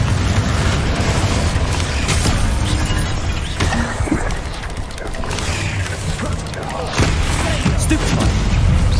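Confringo explosion spells in a Harry Potter video game, loud booming blasts and rumbling crashes layered densely over game noise, with a voice talking throughout.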